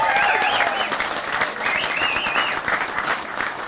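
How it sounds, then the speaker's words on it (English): A crowd applauds loudly at the grand opening of the Bella Vista Bypass on the I-49 corridor, steady close clapping mixed with whoops and whistles rising over it. "You can never applaud too much at an event like this"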